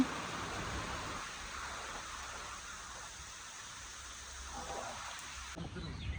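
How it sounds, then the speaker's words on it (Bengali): Heavy rain pouring down during a stormy spell, a dense continuous hiss filling the whole stretch with no voices, ending in a sharp cut. "এখন বৃষ্টি পড়তেছে, অনেক বৃষ্টি পড়তেছে"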